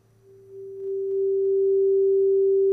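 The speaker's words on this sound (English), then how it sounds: "I'm going to turn my test tone on" A steady pure sine test tone played through Ableton, fading in quickly and holding at constant pitch, recorded alongside a faint low background hum.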